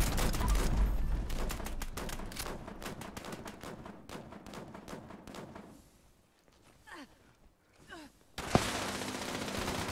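Rapid bursts of gunfire from ARK: Scorched Earth, a dense stream of quick shots for several seconds, then a lull with faint scattered sounds before another loud burst starts near the end.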